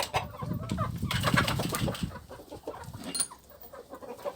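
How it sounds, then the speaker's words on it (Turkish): Several village chickens cluck and squawk nearby as they are let out, with a burst of flapping wings in the middle before the clucking settles down. "Şimdi biraz tavukları serbestliğe bırakayım."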